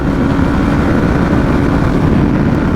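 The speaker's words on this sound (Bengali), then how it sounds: "মানে সত্তর থেকে ছয় গিয়ারেই টানা শুরু করছি চোখের পলকেই একশো বিশ plus this is called G S x R O" A Suzuki GSX-R motorcycle runs at high speed in sixth gear, a loud, steady engine drone mixed with rushing wind noise, close and continuous throughout.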